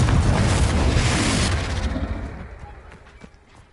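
Confringo blasting spell explosion in the Hogwarts Legacy video game: a loud, heavy boom with rumbling debris that gradually decays over a few seconds.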